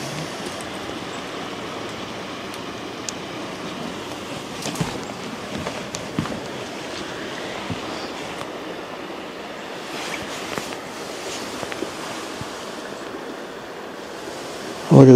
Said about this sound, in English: And you could hear the river flowing here.